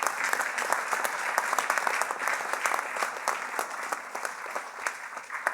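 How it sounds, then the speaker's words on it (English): Graduates at an adult education graduation ceremony applaud standing faculty and staff, a sustained, fairly loud burst of crowd clapping that tapers gently. "Would all the faculty and staff who are in attendance please stand so our graduates can thank you with their applause."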